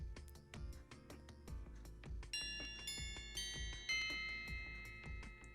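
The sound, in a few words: school bell ringing for lunch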